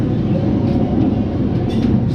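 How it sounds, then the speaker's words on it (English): A Ghost Train dark ride car at Botton's Pleasure Beach rumbles along its track with a steady, loud, close clatter and hum for a couple of seconds. "So here we go then on the Ghost Train."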